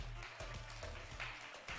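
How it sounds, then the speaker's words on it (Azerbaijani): Applause from a live studio audience at an evening entertainment show, quiet and fairly steady clapping lasting under two seconds with a faint voice underneath. "Daimi tamaşaçımız üçün bir güclü alqış."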